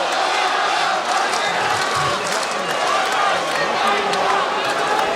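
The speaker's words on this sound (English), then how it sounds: "And now the crowd are turning on him." A boxing crowd at an Australian heavyweight title fight turns on a fighter, a dense roar of jeers and shouts from the arena filling the whole stretch, with a commentator talking over it.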